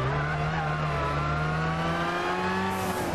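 Gran Turismo 6 race car engine revving steadily upward in a higher gear, a loud continuous climbing drone with rising harmonics and no talk over it.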